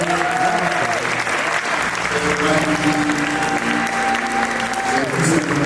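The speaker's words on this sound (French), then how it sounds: "acclamons encore Jésus" A wedding congregation in a Montreal church applauds steadily for several seconds, a dense wash of clapping with a crowd murmur and sustained music tones running underneath.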